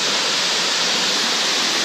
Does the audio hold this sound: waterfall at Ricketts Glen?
yes